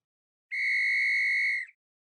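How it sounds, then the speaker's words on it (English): A single steady whistle blast marking the end of regular time, clean and bright, lasting about a second with an abrupt start and a slight upward flick at the end, alone in silence. "Caesar, you just heard that whistle, which means we have reached the end of our regular time, and we are heading into extra time."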